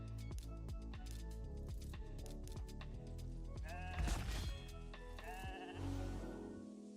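A sheep in a video game bleats loudly over busy battle music and effects, with a couple of drawn-out, wavering bleats standing out near the middle and end.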